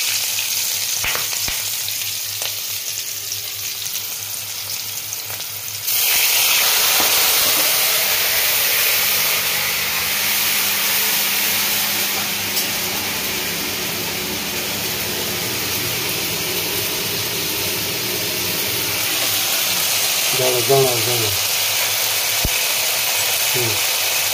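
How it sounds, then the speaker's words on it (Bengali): Water poured into hot oil tempered with green chilies makes the steady frying sizzle jump suddenly into a louder, broader hiss that holds for the rest of the clip. "কাঁচা লঙ্কা দিলাম ফোড়ন, এবার একটু জল দেবো।"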